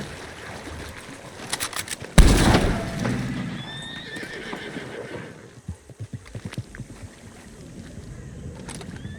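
Horse in Red Dead Online giving a loud, sudden whinny, followed by hoof clip-clops and shuffling movement at moderate volume, with a few other game sounds scattered around it.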